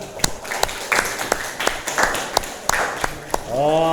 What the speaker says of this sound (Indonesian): Tepuk tangan kepada kelompok 2